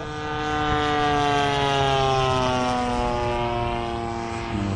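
F/A-18F Super Hornet jet coming in to land, a loud sustained engine roar with steady tonal whine that swells in and slowly tapers, heard alone without voices.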